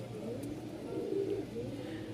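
Lahori pigeons coo softly and repeatedly in low rolling murmurs against quiet background noise, with no talking.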